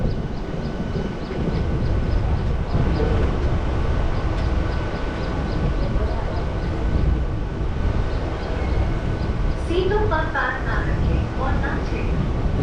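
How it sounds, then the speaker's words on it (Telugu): A Hyderabad MMTS local train, a small MEMU-style electric commuter train, rumbles steadily along the track in a continuous low roar, with a voice talking over the running noise. "సింపుల్ చెప్పాలంటే బయట మనకి మెమూ ట్రైన్స్ లాగే ఇక్కడ లోకల్ ట్రైన్స్ ఇవి"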